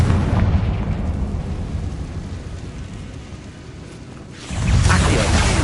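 Explosion from the Confringo spell in Hogwarts Legacy, a loud rumbling blast that fades to a lingering roar, then a second fiery burst swells near the end.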